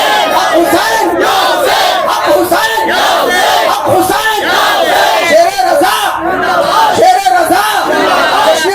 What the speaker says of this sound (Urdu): ارے زور سے بول دو یا حسین, زور سے, زور سے.